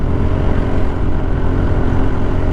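A 150cc scooter engine runs flat out at about 35 miles per hour, a loud, steady low drone with wind rush that holds constant throughout without pause.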